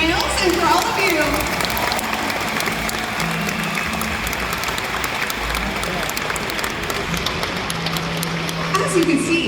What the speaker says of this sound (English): Let's give another round of applause for these amazing whales and for all of you.